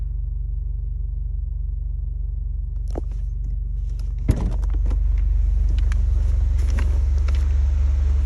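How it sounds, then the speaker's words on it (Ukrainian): A 2016 Chevrolet Camaro engine with a modified exhaust idles with a deep, steady rumble, a brief clunk partway through, then a slightly louder, fuller idle continues. "автомобіль заводиться дуже гарно, ніяких помилок та чеків не горить, працює рівно"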